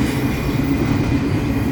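A Union Pacific train rumbles past close by, loud and continuous, with a heavy low roar and a faint metallic wheel squeal above it.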